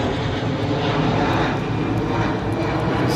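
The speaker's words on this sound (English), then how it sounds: "Plane going over." A fixed-wing airplane flies overhead in Call of Duty: Modern Warfare, a steady broad engine roar that holds constant and fairly loud throughout, with no talking.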